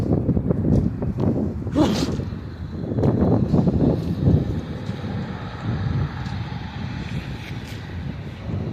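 Strong wind buffets the microphone continuously, a loud rumbling roar with gusts and rustling throughout.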